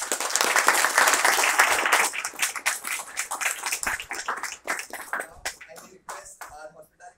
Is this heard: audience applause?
yes